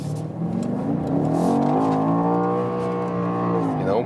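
A performance SUV engine revs up steadily, its rising drone climbing in pitch as it accelerates out of a turn in manual shifting mode, close and loud, with a voice talking over it.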